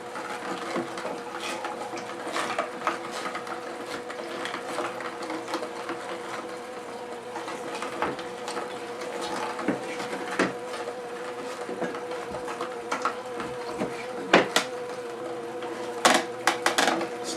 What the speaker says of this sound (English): I still hear the machine running.